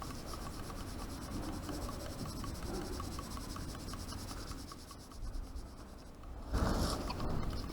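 Graphite pencil shading across paper, held high up the pencil to build tone in light areas, giving a steady close scratchy rasp that runs continuously with a brief louder scrubbing burst near the end.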